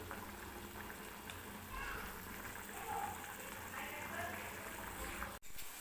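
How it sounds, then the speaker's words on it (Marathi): Maggi noodles boiling in a pot on a gas stove, a faint, steady bubbling simmer that runs throughout, with a brief cut near the end. "छान अशी उकळी आली आहे आपली मॅगीला"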